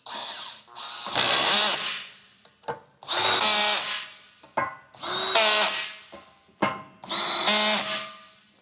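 A power tool with a 9/16 socket drives lift bolts tight in four loud, close bursts of whirring and ratcheting, separated by short pauses and a few sharp clicks.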